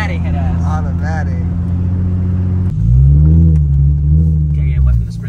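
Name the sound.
Nissan 350Z car revving, doing a spin out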